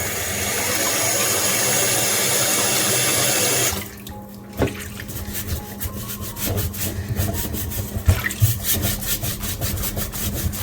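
Yuca being scrubbed with baking soda: running tap water fills the first few seconds, then gives way to close, rough rhythmic scrubbing strokes with occasional knocks against the sink.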